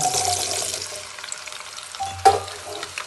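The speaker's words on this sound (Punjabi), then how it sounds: "ਇੱਧਰ ਤੇਲ ਗਰਮ ਰੱਖਤਾ ਹੈ ਪੈਨ ਦੇ ਵਿੱਚ ਉਹ ਆਪਣਾ ਬੁਲਬੁਲੇ ਛੱਡੀ ਜਾਂਦਾ ਤੇ ਹੁਣ ਆਪਾਂ ਇਹਦੇ ਵਿੱਚ ਨਾ ਆਲੂ ਪਾ" Potatoes going into hot bubbling oil in a pan for a dhaba-style aloo capsicum sabzi, loud frying crackle with sharp spitting bursts and clinks of a spoon against the pan, no talking.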